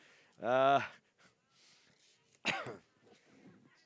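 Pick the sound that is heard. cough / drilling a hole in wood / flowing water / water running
cough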